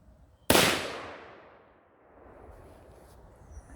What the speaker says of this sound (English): let's shoot this first round and see what happens